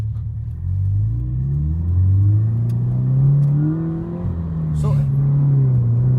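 A Subaru BRZ in Sport mode pulls away from a stop sign, its engine rumbling and climbing through the revs in a steady, close-up acceleration heard from inside the cabin. A voice speaks briefly over the start.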